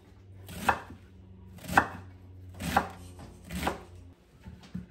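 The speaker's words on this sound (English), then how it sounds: "Then we're going to cut thin slices across." A knife slices cabbage into thin pieces on a board, four crisp, evenly spaced chops with a fifth softer one at the end, close and clear with no talk.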